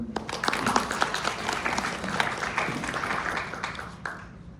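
An audience at a smart manufacturing seminar in Incheon applauds a finished lecture, with dense, steady clapping that holds for several seconds and then thins out near the end.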